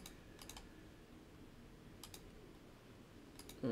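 Soft clusters of computer keyboard keystrokes come in three short bursts while setting up Python libraries on Windows 10, faint against a steady room hiss.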